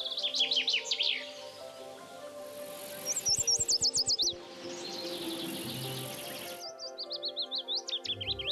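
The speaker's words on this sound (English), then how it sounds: "The most renowned animal vocalists are the birds." Several birds sing in a forest, with bursts of bright, rapid chirping and trilled phrases that come and go over a steady insect-like hiss, fairly close and clear.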